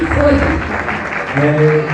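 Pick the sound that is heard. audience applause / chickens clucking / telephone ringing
audience applause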